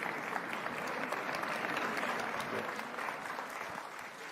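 Sustained, dense clapping from a large audience at a KICC gathering, honoring Sir Mo Ibrahim and President William Ruto; steady and fairly even in loudness, easing slightly toward the end.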